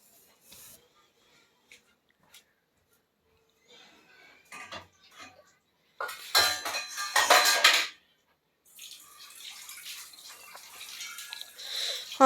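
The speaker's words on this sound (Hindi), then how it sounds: "और हम इसे मुसलसल भूनते रहेंगे" Gram flour roasting in a pan over a low flame for barfi, a metal spoon scraping and clinking against the pan in irregular bursts, with a soft sizzling hiss toward the end.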